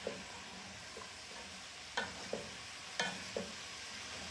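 Beans sauteing in butter with spices in a pan give a faint, quiet sizzle, broken by a few sharp utensil taps and scrapes as they are stirred.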